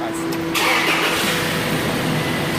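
A 2005 Toyota Tacoma pickup with a vacuum gauge attached and a suspected catalytic converter fault cranks and starts, a short burst of starter whine giving way to a steady engine roar close by.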